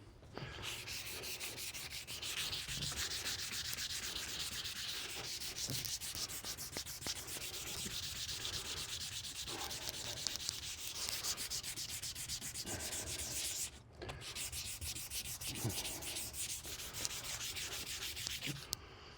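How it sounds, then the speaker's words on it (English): Steady, continuous hand sanding across a car dashboard during the strip-down of an Avenger GT, a dry rasping scrub that runs on evenly with only a brief pause. "when I'm sanding it, yeah, I can do it with my hand."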